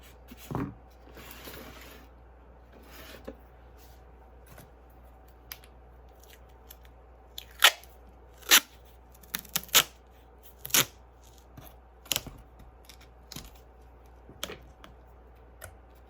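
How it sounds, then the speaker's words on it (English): Dull scissors snip through material in a quiet room, several sharp crisp clicks spaced irregularly, a few louder cuts standing out, close and isolated with no talk. "And I have kind of a dull scissors here."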